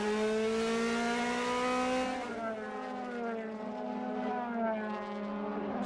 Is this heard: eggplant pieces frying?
no